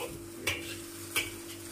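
A spoon scrapes twice against a thin kadhai on a gas stove, sharp metallic clinks over a faint steady sizzle and a low hum, with no voices.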